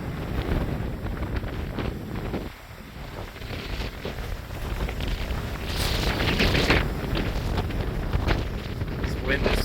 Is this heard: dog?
no